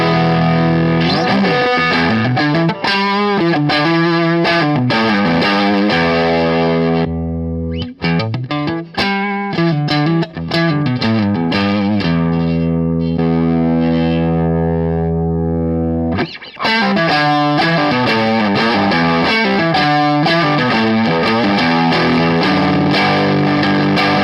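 Electric guitar driven through a Boss overdrive pedal, likely the OD-1 or SD-1, plays loud, continuous distorted lines and sustained notes with a short quieter gap midway, alone without talking.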